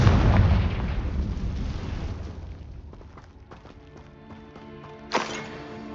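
Confringo blasting spells explode in Hogwarts Legacy: a heavy, rumbling blast fades over the first seconds, then a second sharp, loud burst hits near the end over lingering rumble.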